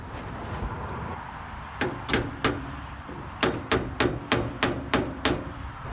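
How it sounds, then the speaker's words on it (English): A hammer taps on the metal carburetor of a Ferguson 35 tractor, suspected stuck float, in short clusters: three quick knocks, then a longer run of about eight evenly spaced taps. "So I just give a little tap on the carburetor, maybe the float's stuck."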